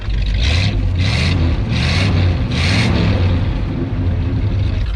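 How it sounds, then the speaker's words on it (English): A 1970 Ford F100 Sport Custom truck's 360 V8 engine runs with a deep, steady rumble nearby, punctuated by four short bursts of airy hiss. "listen to the sound of that engine. So it's equipped with a V8 360"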